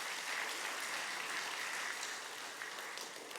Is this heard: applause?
yes